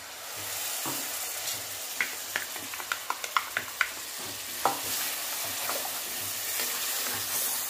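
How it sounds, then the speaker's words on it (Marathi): Masala gravy with red chilli fries in oil, a steady sizzle with a quick run of sharp spattering pops and stirring clicks near the middle, heard close and without talk. "आता ही ग्रेव्ही तेल सुटेपर्यंत भाजायचे"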